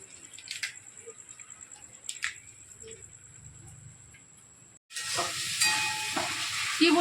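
Chicken frying in a pan during home cooking, a soft sizzle under faint clatter that jumps to a louder, steady crackling hiss partway through.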